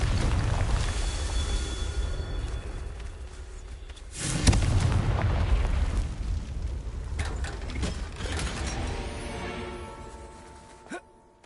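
The Confringo explosion spell goes off in a wizard video game, a heavy rumbling boom that swells around the middle and rolls on for several seconds before fading, with dense game noise throughout.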